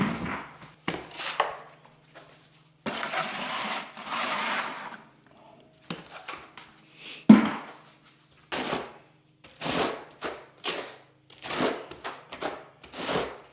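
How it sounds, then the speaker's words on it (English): A trowel spreading thin-set mortar over Ditra-Heat uncoupling membrane on a curbless shower pan: a series of separate scraping strokes, back and forth in bursts of a second or so, close and fairly loud with short pauses between. "Sometimes you got to go a couple different directions with the trowel, go back and forth"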